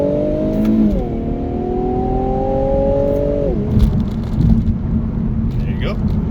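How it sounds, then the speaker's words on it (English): An F90 car accelerates hard, its engine note rising steadily for about three seconds before dropping into second gear and climbing again, loud and close with road and wind roar underneath. "So before I go, let's do one acceleration run. Let's see if we can get into second gear here."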